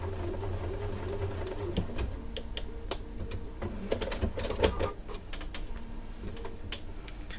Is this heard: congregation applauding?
no